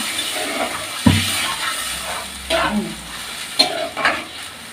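Water poured into a pan of frying spiced fish curry base, a sharp burst of sizzling followed by softer bubbling, stirring and a few utensil clatters close by.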